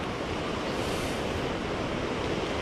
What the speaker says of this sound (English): We've seen waves crashing in only for them to be picked up and turned the opposite direction.